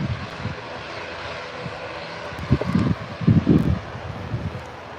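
Eastern Airways plane on final approach at Birmingham airport, a low engine drone with surging rumbles that swell toward the end, partly buffeted by wind noise on the microphone.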